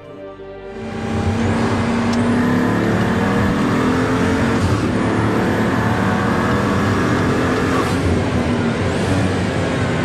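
A 2013 Pagani Huayra with its Mercedes-AMG engine revs up and drives, a loud, deep, continuous roar with rising pitch sweeps as it accelerates, close and unbroken, with no talk.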